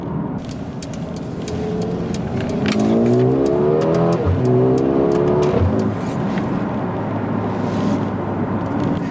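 A Mercedes-AMG GLA 35 engine revs hard and accelerates close by, its pitch climbing in rising sweeps, loud and steady with no voices.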